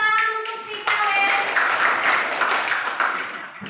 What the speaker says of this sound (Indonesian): Tepuk tangan untuk si Kaleb